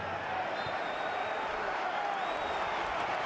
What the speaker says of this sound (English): Applause from Garitano, applause from the